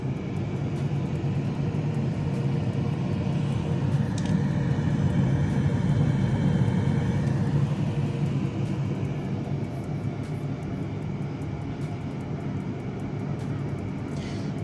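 A new Philips air fryer runs with a steady, quiet, low whirring fan hum recorded close from behind the appliance, holding constant throughout with no talk over it.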